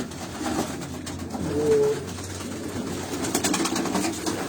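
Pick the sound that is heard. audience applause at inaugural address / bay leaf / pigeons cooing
pigeons cooing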